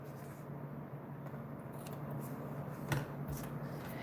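Scissors snip through tear tape at a papercraft table, giving a quiet rustle and then one crisp, close cut near the end.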